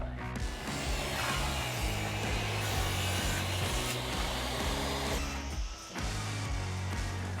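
A finish sander works over wood on a houseboat being renovated from a navy barge. Its buzzing motor and abrasive rasp are loud and close and run continuously, with a brief dip in the sound near the end.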